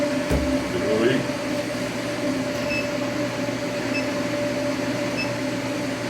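An induction forge heats fluxed steel for forge welding, giving a steady electrical hum with a faint high whine, constant and fairly close, with brief clanks near the start.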